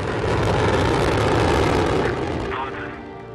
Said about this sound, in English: now ignition. And liftoff.